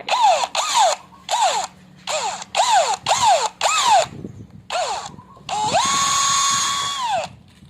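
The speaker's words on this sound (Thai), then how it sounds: "เดี๋ยวเราจะใช้สว่านนะครับ ทำการเจาะรูฝา" An electric drill bores a hole in a plastic bottle cap in about eight short, whining bursts, each spinning up and down quickly. A final, longer sustained whir follows. The sound is close and loud.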